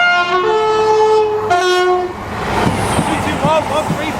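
A Class 221 Voyager cross-country train passing at Acklington sounds a loud two-note horn blast, followed by the roar and clatter of the train rushing past close by.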